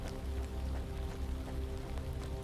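Rain falling in a forest in the game The Land of Pain, a dense steady patter of drops alongside a low hum, continuous and even.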